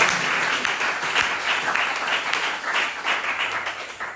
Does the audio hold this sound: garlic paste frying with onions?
no